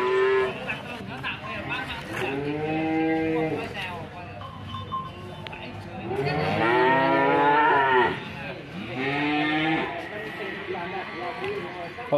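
Several long, loud moos from Ongole crossbred (PO) cattle in succession, deep and drawn out, with brief pauses between them and a busy background.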